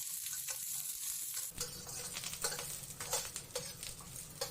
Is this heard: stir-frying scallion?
yes